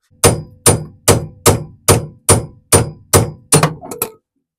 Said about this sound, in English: so it will pop with the hammering that we do